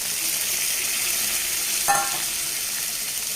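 Lentils being stirred into a moringa (drumstick leaf) stir-fry in a pan: a steady low sizzle with one brief scrape of stirring partway through, no talking.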